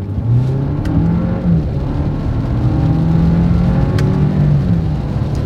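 A 2025 Audi Q7 SUV in manual paddle-shift mode and dynamic driving mode pulls hard from inside the cabin, its engine droning and rising in pitch through gear changes, a loud steady roar with no talk.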